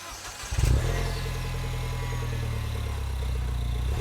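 An R56 MINI Cooper S engine cranks and fires, flaring briefly before settling into a steady close idle with a low, even rumble.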